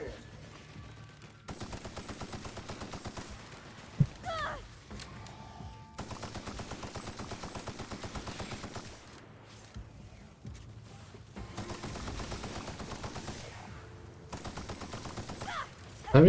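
Machine gun fire in The Outer Worlds, long sustained bursts of rapid shots separated by short pauses, loud and close, with a quiet stretch partway through and a sharp hit near the end.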